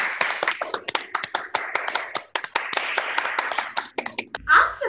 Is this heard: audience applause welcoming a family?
yes